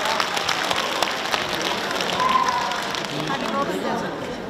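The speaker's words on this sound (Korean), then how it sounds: "큰 박수 부탁드리겠습니다." Applause from an audience at an inauguration ceremony with a Korean traditional music performance, a dense patter of many hands clapping at moderate volume, mixed with some crowd noise and chatter.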